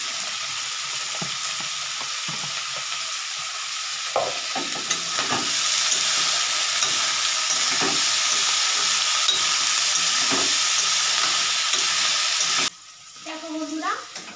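Onions fry in a pan for egg chow mein, giving a steady hissing sizzle punctuated by scraping stirs. The sizzle grows slightly louder midway, then drops away as a voice speaks at the end.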